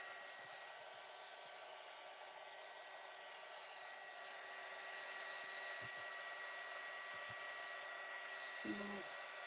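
Hair dryer blowing over freshly painted clay pieces, a continuous steady whooshing hum that grows slightly louder partway through, with faint speech underneath.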